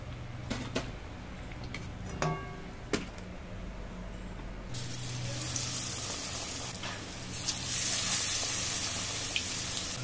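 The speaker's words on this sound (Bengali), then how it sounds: "মাছের চপ লাল লাল করে ভেজে নিয়েছি" Fish chops deep-frying in oil, a continuous crackling sizzle that grows louder and denser midway, with a few sharp clinks, heard close up without talk.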